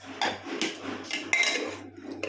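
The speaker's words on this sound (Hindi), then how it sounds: "अब कुकर का ढक्कन को खोलते हैं" The metal lid of a pressure cooker is opened in a home kitchen, a few close clinks and scrapes of metal over a low hum.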